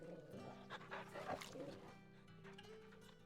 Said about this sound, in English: Jump for joy to pet the dog.